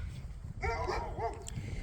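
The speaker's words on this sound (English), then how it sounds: "I gotta go visit the pup dogs." Dogs on a farm give a short burst of whining, yelping whimpers over a low rumbling background, close and moderately loud, lasting under a second before fading.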